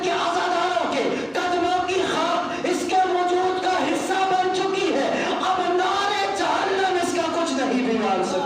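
A large mourning congregation at a Muharram majlis chants religious slogans in unison, loud sustained voices rising and falling in repeated phrases that fill the whole stretch without a break.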